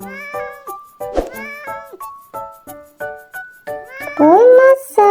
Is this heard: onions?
no